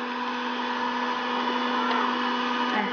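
An electric mixer whirs steadily through Colomba Pasquale cake dough, a constant close, loud motor drone with a strong tonal hum that keeps an even pitch the whole time.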